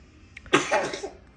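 A single short, sharp cough sounds up close, with a brief rasp trailing off after it.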